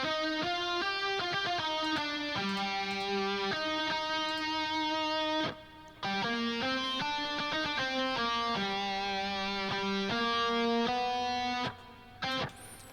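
Bright synthesizer lead melody in a producer's electronic track, a steady run of quick stepping notes over sustained tones with two brief pauses, loud and continuous with no voices.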